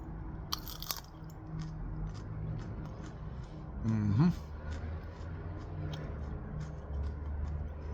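A Big Mustard Mama hot pepper, a Big Black Mama variant, is bitten with a crisp crunch and chewed close to the mic, with a person talking around the bites.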